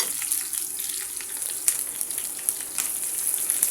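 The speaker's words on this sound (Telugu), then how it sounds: "వీటిని ఒక రెండు మూడు నిమిషాలు ఫ్రై అవ్వనివ్వండి" Chopped onion and garlic fry in hot oil in a home kitchen, giving a steady, fairly quiet hiss and sizzle with small crackling pops throughout.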